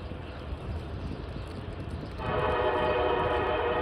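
An SD40-3 diesel locomotive hauling freight train M427 out of West Springfield Yard, a loud, steady rumble that swells partway through into a stronger, droning engine roar, likely at notch 8, heard alone without talk.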